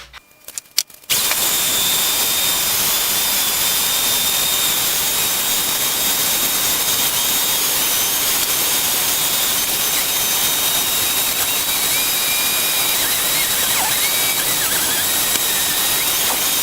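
A wood lathe turns muddlers in a workshop. After a short quiet start it gives a steady, loud, continuous whir and hiss that runs unbroken to the end.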